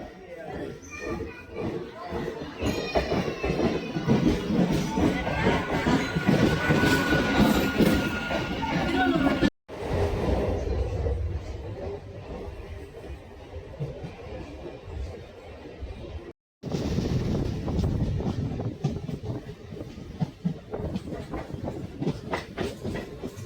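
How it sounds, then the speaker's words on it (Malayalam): A train pulls in near Basin Bridge Junction in Chennai, a loud, continuous rumble and rattle of rail cars with voices around, briefly cut off twice. "അവിടെ നിന്നൊരു ട്രെയിൻ വന്നുണ്ട്."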